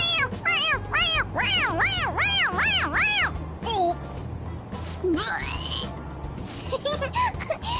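A toy cat in the video game Persona 5 Royal meows over and over in quick succession, then a couple more meows follow more sparsely amid background noise.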